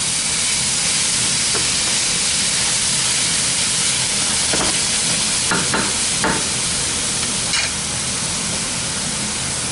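Oil in a paella pan for a seafood paella, with peppers about to be added, giving a loud, continuous sizzle and hiss and a few faint clinks of utensils.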